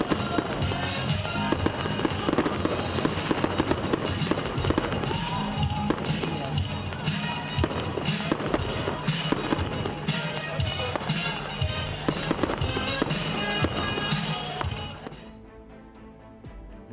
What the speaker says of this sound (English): display of fireworks